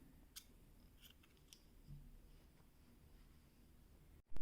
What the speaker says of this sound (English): And now you chain 1 and cut your yarn.